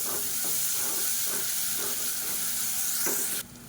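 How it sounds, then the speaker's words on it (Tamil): Onions fry with ginger garlic paste in a hot pan, giving a loud, continuous sizzle with soft stirring scrapes at intervals, the hiss cutting off abruptly near the end. "1 டேபிள் ஸ்பூன் இஞ்சி பூண்டு சேர்த்து வதக்கி விட்டுக்கலாம்."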